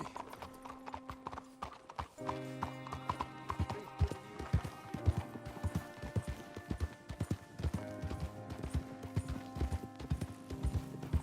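In Red Dead Redemption 2, steady clip-clop of horse hooves at a trotting rhythm, close and fairly loud, with music playing underneath and an occasional snort.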